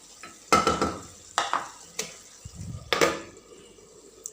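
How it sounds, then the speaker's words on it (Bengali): Potatoes stirred in a curry pot on a low flame, cooked to stay slightly firm, scraping and sizzling in a few separate bursts of stirring with quieter frying between. "আমি একদম নরম করব না আলুগুলো একটু জর্জরা থাকলে না ভাল লাগে তরকারিটা।"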